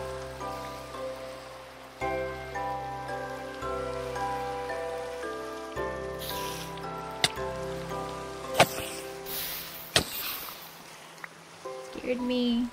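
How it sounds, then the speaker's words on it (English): Rain falls in the video game Exoria Origins as a steady soft patter beneath sustained musical tones, with a few sharp clicks and thuds breaking through. "Oh, there's the rain."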